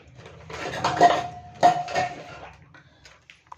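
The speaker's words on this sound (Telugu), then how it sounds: "దీన్ని మొత్తం ఇదంతా బాగా మిక్స్ అయ్యేటట్లు కలిపేసుకోండి" Homemade chicken pickle being mixed in a bowl, with a utensil scraping and clinking against the dish in a few rounds of stirring, close and moderately loud, and a faint tap near the end.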